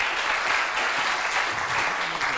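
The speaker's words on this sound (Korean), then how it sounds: "박수로, 큰 박수로 시작하겠습니다" A forum audience gives a big round of applause to open a discussion event, thick continuous clapping from many people throughout, close and even in level.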